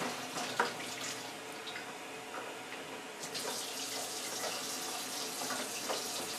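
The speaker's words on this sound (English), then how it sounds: "Alright, so I'll put the siphon in here." Liquid runs steadily from a fermenter through a siphon tube into a bucket, a soft continuous trickle and splash at close range with a few small clinks, and no talk.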